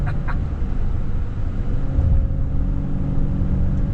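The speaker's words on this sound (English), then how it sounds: "these V-dubs, they drive well, they handle well, even these big SUVs are fun to hoon around on the weekends" A 2025 Volkswagen Atlas SEL SUV on the move, a steady low engine and road rumble heard from inside the cabin, moderately loud and even.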